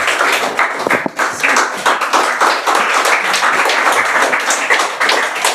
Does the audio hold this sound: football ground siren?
no